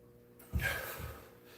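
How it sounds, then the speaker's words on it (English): A single heavy, breathy gasp after a big leg workout, close and fairly loud, trailing off over about a second. "Let me catch my breath."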